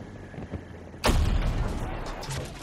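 In Battlefield 2042, an explosion slams into the player's tank: a sudden heavy boom cuts through low battle noise and leaves a rumbling, roaring wash afterward.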